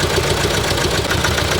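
A 2019 Nissan Terra engine with an injector fault runs at a steady loud idle, a dense close mechanical drone with faint knocking texture and no voices.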